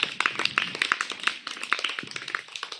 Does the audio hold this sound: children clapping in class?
yes